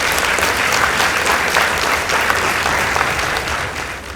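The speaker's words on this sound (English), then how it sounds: "Let's give them a round of applause." Sustained, dense applause from a school audience at a debate contest between Kiambu High School and Kabare Girls High School, loud and steady throughout with no voices over it.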